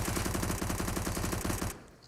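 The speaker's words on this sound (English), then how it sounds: "P90. Oh, I love that sound." P90 submachine gun firing in Counter-Strike: Global Offensive on the Mirage map, a loud, rapid continuous burst of automatic fire with a steady rhythm that cuts off sharply near the end, no talk.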